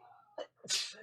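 A single sharp sneeze with a short intake of breath just before it, close and loud.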